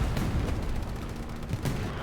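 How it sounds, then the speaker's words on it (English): A truck explodes in the World War II shooter Hell Let Loose amid a steady wash of distant gunfire and rumbling battlefield noise, with a couple of dull booms standing out in the din. "That explosion, that was a truck."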